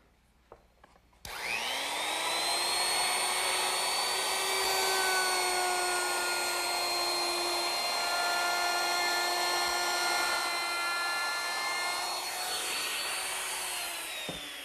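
A router fitted with a 1/4 inch roundover bit spins up with a sharp whine and runs steadily as it rounds over the top edges of wooden legs, then winds down near the end, loud and close, with no talk.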